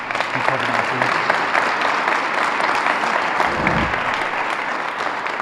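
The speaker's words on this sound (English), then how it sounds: "I think just a round of applause for the work they did." Sustained applause from an audience at a grant award ceremony, a dense steady wash of many hands clapping at once for several seconds, with a faint low murmur underneath.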